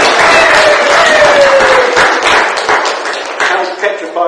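A church congregation at Sunday morning worship breaks into applause, a dense, steady clatter of many hands that stays loud and then thins slightly toward the end, with a voice carrying through it.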